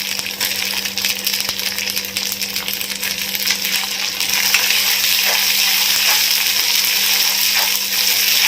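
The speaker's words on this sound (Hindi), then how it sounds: "और इसी स्टेज पे हम लोग कटे हुए कैप्सिकम ऐड कर देंगे।" Chopped capsicum fries in a pan with garlic for a simple Indian home-style dish, a loud dense hiss that swells after a few seconds and holds steady, close up, with no talking.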